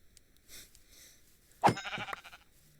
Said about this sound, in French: Les moutons là-bas, je vais les laisser.